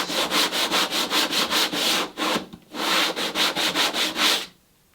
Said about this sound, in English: So I can finish that off with a sanding block like this.